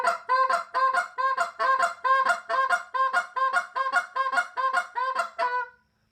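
A goose call blown in a hiccup pattern, each a short moan breaking into a cluck, repeats about twelve times in a steady quick rhythm, close and clear with nothing behind it.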